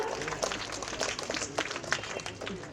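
An audience at a Republic Day celebration claps to welcome a performer onto the stage, giving a short burst of irregular, fairly close applause with a faint voice underneath.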